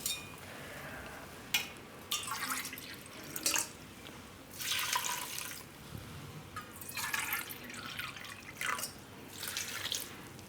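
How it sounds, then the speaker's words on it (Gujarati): Water pours and trickles into a pot of washed urad dal and greens in a home kitchen, with splashing bursts and drips coming and going, close and clear without talk. "અને પાણી નાખી દેવું આપણે એમાં."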